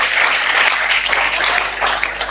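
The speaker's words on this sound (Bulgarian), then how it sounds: "Може да ръкопляскате на Джордж" A church audience claps in steady, loud, dense applause that runs for the whole stretch without pause, with no talking over it.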